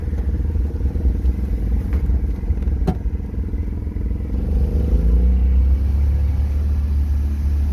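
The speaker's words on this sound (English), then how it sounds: "I just want to make sure the idle comes down." A car engine idles steadily at close range with a low rumbling drone, the pitch easing and settling lower toward the end, no talk over it.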